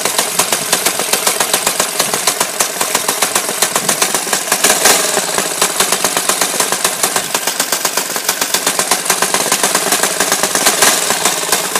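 A Predator small engine runs during break-in with a rapid, even, hammering exhaust beat that is loud and close, rising slightly in pace as it revs, with no one speaking.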